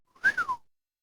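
A single short whistle rises and then slides down in pitch, brief and clear, with silence before and after.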